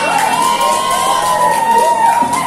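Children in an elementary teacher-training classroom cheer and shout over clapping for a presenting group, a loud continuous crowd roar with sustained high voices throughout.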